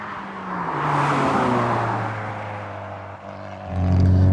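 Honda FK2 Civic Type R engine droning while driving, a moderate buzzy rumble that swells, dips briefly and then rises to a stronger, deeper tone near the end, heard from inside the car with no talk.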